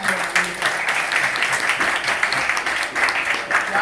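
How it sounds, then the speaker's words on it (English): Brief, lively applause comes from an audience after a stage play, with dense clapping that pulses unevenly and stays close and fairly loud throughout. "Clap it up for him"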